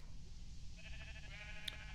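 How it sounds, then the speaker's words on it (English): A sheep in a video game bleats faintly in one short wavering call over a steady low background hum. "Oh, his ever-protected sheep there."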